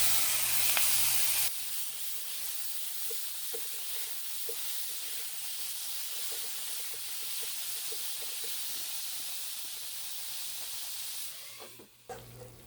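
Chopped tomatoes hit a pan of softened onions for a crab masala and sizzle in a steady, close hiss that continues without break for several seconds, with no voices.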